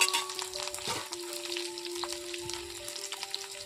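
Green chillies fry in hot oil for a fasting sabudana breakfast dish, giving a steady close sizzle with faint crackles and a light stir or clink near the start.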